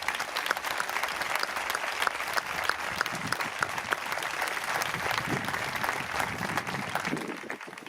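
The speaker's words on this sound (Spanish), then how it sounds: "A todos ellos, este fuerte aplauso." Sustained applause from a crowd at the Tabaco y Pimiento town festival in Jaraíz de la Vera, a dense, even wash of clapping lasting the whole stretch and easing slightly at the end, with no speech over it.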